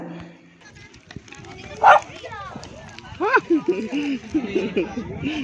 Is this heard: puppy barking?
yes